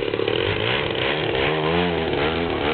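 A DLE-30 30cc rear-carburetor gasoline engine on an RC Yak plane runs at a steady, buzzing mid-throttle drone, loud and close throughout with a slight warble in pitch.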